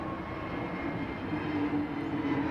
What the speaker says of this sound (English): Listen to the hollow sound of those engines.